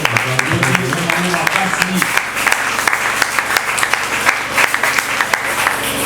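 A church congregation at a prayer marathon breaks into loud, continuous applause. The clapping is full and close, with a brief tonal voice or music sound under the first couple of seconds.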